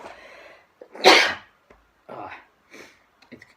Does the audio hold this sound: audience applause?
no